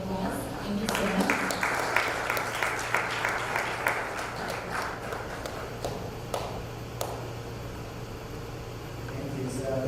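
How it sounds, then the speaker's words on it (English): An audience at the Indian Consulate in New York applauds to welcome a speaker to the stage, with dense clapping that gradually thins and fades, a steady low hum underneath and a few voices near the end. "please join me in welcoming him up to the stage with a round of applause"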